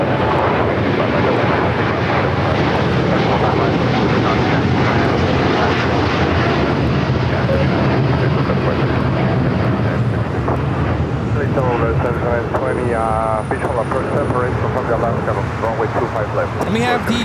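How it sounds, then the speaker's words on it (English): Korean Air Cargo Boeing 747 crossing runway 25 right at LAX before takeoff for Seattle, its jet engines a loud, steady roar throughout, with a voice talking over it and radio chatter near the end. "we have the Korean Air Cargo 747 crossing over for takeoff to Seattle on 25 right"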